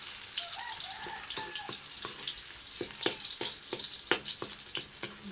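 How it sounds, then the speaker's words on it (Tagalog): Steady sizzling of garlic and red onion sautéing in a hot pan, with scattered crackles and pops, close up and fairly loud, no talking. "Ito po yung ating garlic at saka red onion. Ito, gisahin muna natin."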